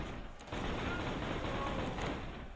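A Jakobs shotgun in Borderlands 2 fires rapidly, a dense run of blasts that runs together into a continuous roar after a brief opening burst, fairly faint and with no talk over it.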